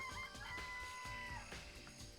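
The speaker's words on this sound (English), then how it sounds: "I remember there's some chickens in this coop." Chickens clucking in a coop in the video game Danganronpa, a short burst of soft clucks and a brief crowing-like call over a dense, quiet background, with no talk.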